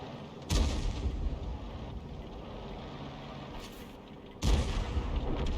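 A 21cm artillery shell fires from a GW Tiger (P) self-propelled gun in World of Tanks, with two loud heavy booms, one early and one near the end, over a steady low engine rumble.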